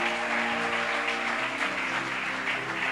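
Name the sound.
church congregation applauding the Lord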